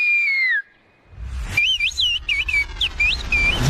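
A villager in Turkey whistles in the local whistled language, which imitates bird calls. A long sliding tone opens it, then after a brief pause comes a quick series of loud, warbling, bird-like whistled phrases over some background rumble.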